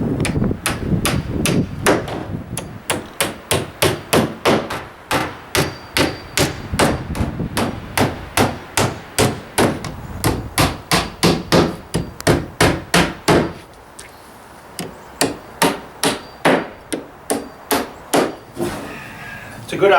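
Nails hammered into wooden batten while fitting windows and a door on a DIY garden shed greenhouse: a long run of loud, close hammer blows in steady, rapid rhythm, with a short lull before the strikes resume.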